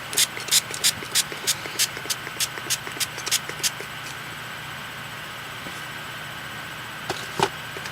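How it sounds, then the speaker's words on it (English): A run of short, sharp hissing bursts repeated in quick rhythm, then a pause and two more brief sprays near the end. "Spray."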